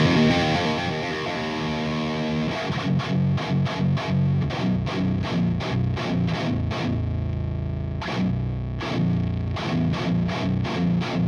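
Heavily distorted electric guitar through an Audio Assault AHM 5050 amp with master volume cranked, loud and saturated, with a sustained chord opening into a run of sharp, rhythmic chugging strums.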